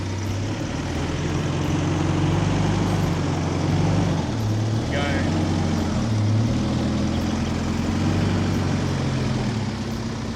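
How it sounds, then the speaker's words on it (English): A 4x4 fitted with a front diff locker creeps over off-road terrain at idle, a steady low engine rumble with slight changes in pitch, close and continuous, with a brief high squeak partway through. "I'm just idling through guys."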